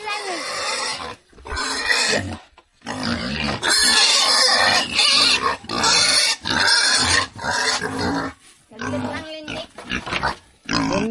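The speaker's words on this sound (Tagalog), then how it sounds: "Yung mga baboy." Pigs grunting and squealing loudly and nearly continuously at close range, in short noisy bursts with brief pauses, with a few faint voices mixed in, near feeding time.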